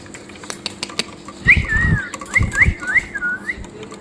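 Caged red-eyed local-breed parakeets at a Mirpur bird market give a loud burst of shrill, rising and falling whistled calls, about five in quick succession, over low background rumble.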